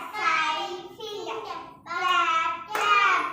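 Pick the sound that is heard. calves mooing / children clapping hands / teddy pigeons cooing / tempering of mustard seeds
children clapping hands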